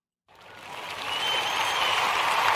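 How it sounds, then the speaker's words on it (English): A crowd at a community gathering breaks into a round of applause, swelling over the first second into dense, steady clapping that holds loud and close to the end. "applause."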